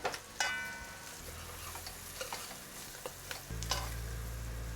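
Curry potatoes cooking in a pot with pimento and shadow benny, a steady low sizzle and bubbling with occasional light stirring clinks, close and quiet, no talk.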